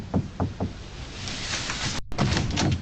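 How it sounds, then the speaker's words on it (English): Three sharp knocks on a door ring out in quick succession near the start, followed by a steady rustling background with a brief dropout. "he knocked on the door"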